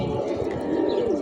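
Pigeons cooing on a rooftop, soft low throaty coos repeating close by in a gentle rolling rhythm, with no talk over them.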